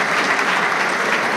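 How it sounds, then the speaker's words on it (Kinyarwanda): An audience applauds at a comedy event, a dense, steady burst of clapping from a crowd, loud and close, with no talk over it. "muyiha amashyi"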